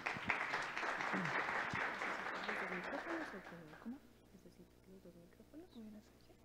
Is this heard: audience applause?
yes